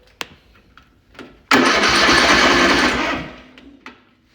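A lawn mower engine turns over after a few faint clicks and clunks, catching with a loud burst and running steadily for about a second and a half before dying back down into quiet handling noises.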